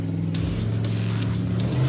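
A car engine strains and revs while climbing a soft, rocky off-road hillside, a steady close-up drone with slight rises in pitch.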